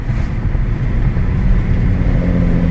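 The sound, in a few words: Mercedes-Benz OM606 turbodiesel engine accelerating, turbo spooling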